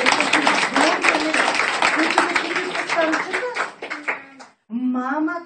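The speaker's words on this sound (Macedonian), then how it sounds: "Аплауз за Неда!" Applause for a child named Neda at the theatre: scattered hand clapping from an audience runs beneath steady, close talking and exclaiming voices, then stops before a short final remark.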